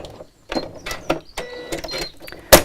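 A sewing machine stitches around layers of fabric for a zipped pouch with a pocket, giving short uneven bursts of close mechanical whirring and clatter, ending in a sharp louder clack.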